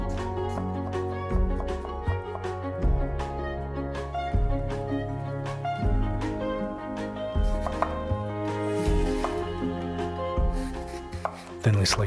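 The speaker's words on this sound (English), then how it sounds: "Small piece of ginger, thinly sliced into matchsticks." A knife slices a small piece of ginger into thin matchsticks with quick, regular taps on a cutting board. The strokes sit under steady background music.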